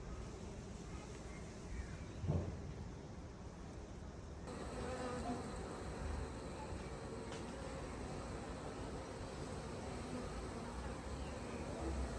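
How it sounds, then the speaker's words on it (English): Honeybees settling into a new hive in Ireland make a steady, dense buzz that holds evenly throughout, with a brief louder swell near the start. "So the bees are lovely and docile"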